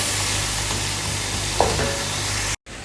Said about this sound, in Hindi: अब मैं इसमें थोड़ा सा पानी शामिल करूँगी। इससे ये होता है कि मसाला जो है वो बहुत अच्छे से भुन जाता है